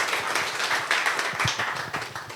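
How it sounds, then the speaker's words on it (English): A round of applause from an audience after a startup talk, dense clapping from many hands heard up close, steady and then tapering slightly toward the end, with no talking. "Give me a round of applause now."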